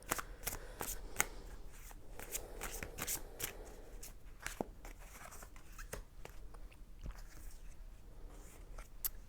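A tarot deck being shuffled by hand, a quiet run of crisp, rapid card riffles and taps that come in clusters and stay close and intimate, with no talking over them.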